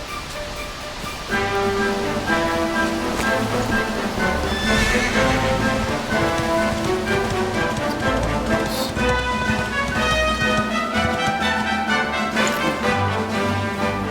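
Horse in Dragon Quest XI neighs loudly over rhythmic hoofbeats and layered music, the whinny standing out briefly midway before the galloping continues.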